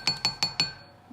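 Beeswax pellets tumble into a small glass in four quick, bright clinks evenly spaced, close and crisp, then fade out.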